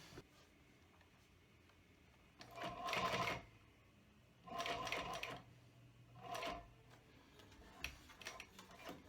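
Sewing machine stitching a leather sporran's back to its gusset, three short bursts of rapid mechanical running separated by pauses, fairly close but quiet.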